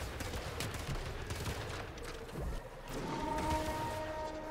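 A rocket launcher fires during gameplay of The Eternals, heard as rapid bursts of gunfire and explosive blasts in a busy battle mix with some faint tonal game sounds.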